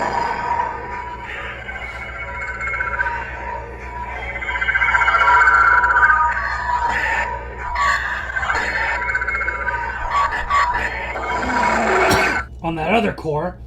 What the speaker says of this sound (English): Let's see what the Darksaber is really supposed to sound like.